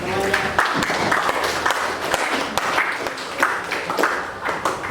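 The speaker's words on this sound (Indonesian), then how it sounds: "berikan tepuk tangan ke temannya" A classroom of students claps for a classmate in a dense, uneven burst of applause that carries on steadily, with voices mixed in.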